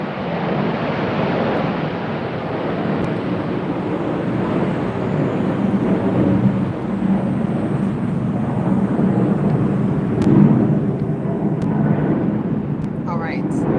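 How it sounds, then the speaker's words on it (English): An airplane or jet flies overhead above an outdoor garden during a potato harvest. It makes a steady, broad roar that lasts the whole stretch, mixed with wind buffeting and faint voices. "now we got a plane or a jet or a friendly flyer"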